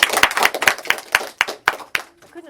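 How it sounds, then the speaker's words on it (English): Audience clapping at a literary society meeting, a short burst of rhythmic claps heard fairly close, with no talk over it, that thins out and stops after about two seconds. "Come on, give her a big clap."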